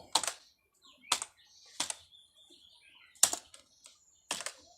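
Six separate keystrokes on a computer keyboard as an HTML button tag is typed, each a crisp close click with short pauses between them and no talking.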